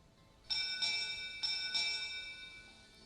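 A ding-dong chime sounds in the factory-building game Satisfactory: two pairs of clear bell tones ring out and fade, fairly quiet, with no talking.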